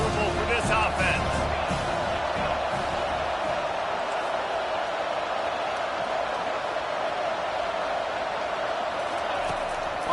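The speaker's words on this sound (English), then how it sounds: "These fans are going absolutely nuts." A loud American football stadium crowd roars in a continuous, sustained wall of cheering, with a commentator talking over it.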